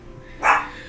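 A single dog bark sounds once indoors at home, brief and moderately loud against a quiet background.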